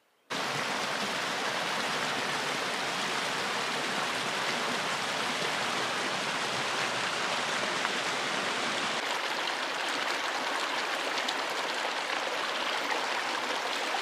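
River rushing at a Pacific Crest Trail crossing, a loud, steady broadband roar of flowing water that starts abruptly and continues unbroken, with no voices.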